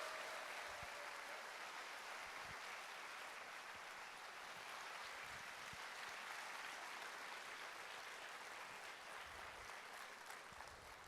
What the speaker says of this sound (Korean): 여러분 큰 박수 부탁합니다.